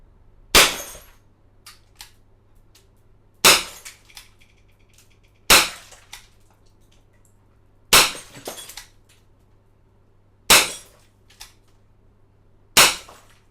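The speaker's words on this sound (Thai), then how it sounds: "อ่ะเดี๋ยวมาลองเทสยิงขวดนะครับ ขวดเบียร์นะครับ" A WinGun 708 gas airsoft pistol fires six sharp, loud cracks spaced a couple of seconds apart at a beer bottle. Some shots are followed by brief glassy clinks and breaking sounds.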